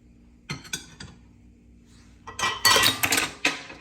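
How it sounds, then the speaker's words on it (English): A pot of stewed cabbage with carrots and tomatoes gets stirred, with a few scattered clinks early on, then a louder stretch of scraping, clattering spoon-against-pot strokes near the end, close by. "And then stir all together."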